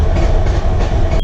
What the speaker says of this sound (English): I'll just crank it until it starts.